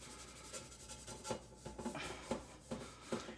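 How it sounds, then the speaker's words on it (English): A Kleeneze Busy Bee sponge scrubs a dry pan with no cleaning product, giving soft, close rasping rubs in quick repeated strokes, faint and alone. "Right, I'm scrubbing this area here."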